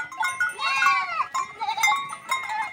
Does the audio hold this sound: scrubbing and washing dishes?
no